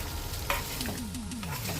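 Sabudana khichdi with rock salt is stirred in a pan, giving a brief, quiet stretch of soft scraping and light sizzle.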